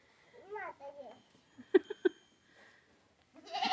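Goat bleating in a village while being fed fodder, a couple of short bleats in the middle amid a voice and babbling, with rustling toward the end.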